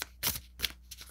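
Tarot cards are shuffled in three quick riffling bursts, close and crisp, with short pauses between them.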